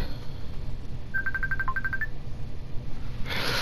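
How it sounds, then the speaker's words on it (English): A phone rings with a short run of rapid electronic beeping tones over a background hiss of a video game, brief and clear, with no speech. "And my phone ring."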